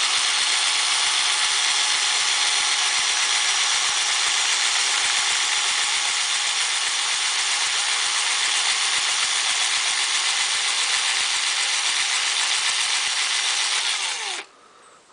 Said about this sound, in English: I'll just demonstrate how it should work with the drill